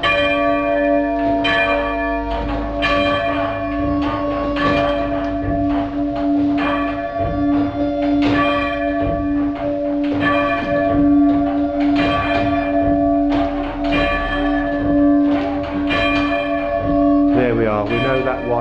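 A muffled church bell at St Margaret's Church in Wetton rings again and again at a steady pace. The strokes sound close and ring on with a long hum between them, and some strokes are softer than others.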